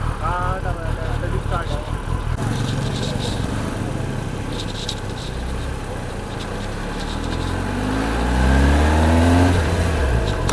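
A Kawasaki ZX10R sport bike pulls away in first gear as its engine rises from idle into a revving climb, close and loud. A voice talks over the start.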